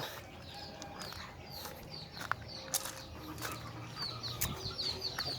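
Chickens about four to five months old on a farm after the rain cluck faintly and intermittently, with scattered short calls and a few sharp sounds against a quiet background.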